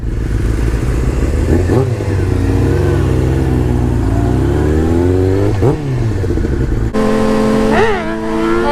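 Motorcycle revving hard during a wheelie at night on an unlit street, several loud rising and falling revs close by, with a voice talking over the engine.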